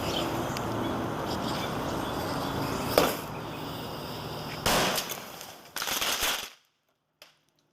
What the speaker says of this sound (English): those fireworks are extremely powerful.